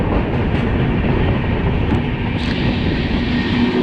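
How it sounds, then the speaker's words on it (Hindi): The Bihar Sampark Kranti Express rushes past close by with a loud, steady roar of wheels and coaches, and faint rhythmic clatter from the rails runs through it. "कल्याण के वेब 7 के साथ बिहार संपर्क क्रांति एक्सप्रेस है।"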